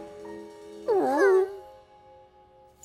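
Cartoon dogs let out a short burst of yips and whimpering barks, loud and close, lasting about half a second before the scene drops back to quiet background.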